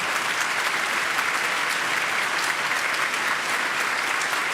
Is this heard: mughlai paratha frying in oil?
no